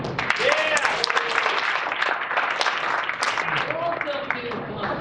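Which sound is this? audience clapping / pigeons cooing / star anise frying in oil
audience clapping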